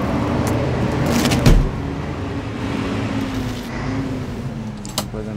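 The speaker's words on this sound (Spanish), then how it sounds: "Este es el motor de una de 1500 cilindrada, motor Toyota, doble árbol de leva y 6 válvulas." Toyota 1500cc twin-cam engine of a 2021 Foton TM3H truck idling with a steady low hum, close by, with a few brief clicks and rattles over it and no speech.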